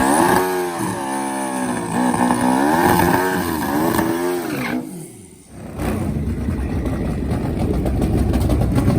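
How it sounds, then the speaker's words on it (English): Turbocharged Suzuki Hayabusa drag motorcycle at a drag racing event, its engine revving loudly and wavering in pitch, cutting out briefly midway and then roaring back in a dense, gritty blast. "his turbocharged Suzuki Hayabusa"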